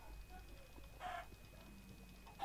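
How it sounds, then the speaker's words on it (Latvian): A chicken in a mob arena video game gives a few short clucks over quiet game ambience, with a brief squawk near the middle. "Stulbā vista."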